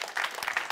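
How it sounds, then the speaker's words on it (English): Applause from a theatre audience at a school performing arts production of the musical Little Shop of Horrors, a short burst of dense, fairly steady clapping at moderate volume. "Give him a massive round of applause."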